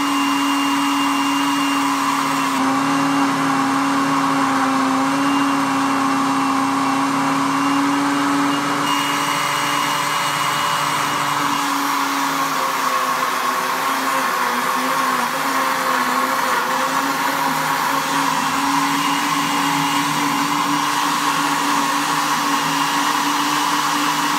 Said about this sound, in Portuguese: Vamos liquidificar?